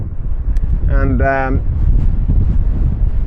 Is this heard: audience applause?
no